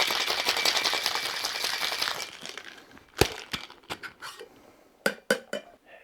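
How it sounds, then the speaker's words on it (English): Ice rattling in a cocktail shaker holding Dolin Blanc and Angostura bitters, a fast, dense rattle for about two seconds, then separate sharp clinks and knocks of ice and metal. "And let's give that a shake. Shake it for about 10 to 15 seconds."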